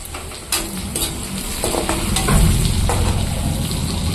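Bay leaf dropped into hot oil with reddish-browned onions, a steady close sizzle with scattered scraping stir clicks that swells slightly midway.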